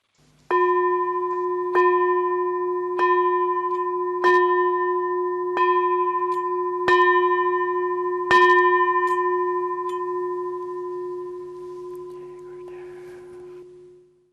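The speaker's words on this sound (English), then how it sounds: "So we end now by ringing the bell of invincibility." A ceremonial bell is struck about eight times at an even pace, each clear ringing tone sustaining and overlapping the next, then decaying slowly into quiet, heard close and alone.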